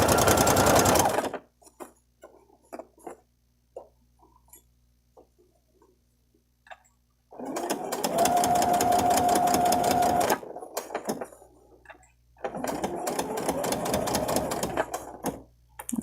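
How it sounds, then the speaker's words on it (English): A sewing machine fitted with an invisible zipper presser foot stitches in three bursts, with a short run, a long pause, then two longer runs of rapid mechanical whirring. "And now we can sew."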